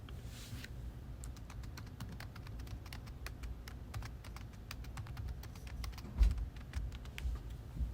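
Fingers tap out login credentials on a computer keyboard in a quiet room, a steady stream of soft, close key clicks with a slightly louder thump near the end, no voices.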